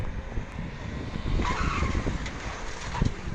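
A car with a smashed front end and popped-up bonnet circles the wall of a maut ka kuan (well of death): a steady close engine roar, with tyre skids and squeals rising midway and scuffing bumps near the end, no speech.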